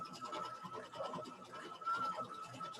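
A Baby Lock computerized embroidery machine stitches decorative circles, giving a steady close whirring buzz with fast, even needle rhythm and a faint high mechanical whine, running alone without voices.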